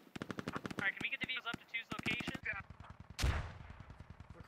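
Heavy machine guns fire in long rapid bursts during a large squad-based military video game, with dense, loud repeating shots and a big explosion near the end. Players' voices come through faintly under the gunfire.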